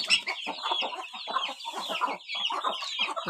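Hens on a poultry farm cluck in busy overlapping bursts, close and fairly loud, a steady stream of short calls from several birds with brief pauses and no talking.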